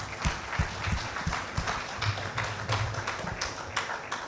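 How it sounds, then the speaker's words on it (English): An audience claps at a community gathering, a soft, fairly distant patter of hands that rises and falls unevenly for a few seconds, with no talking over it. "So please, another round of applause."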